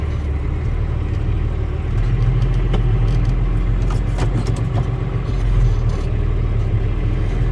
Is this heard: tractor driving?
yes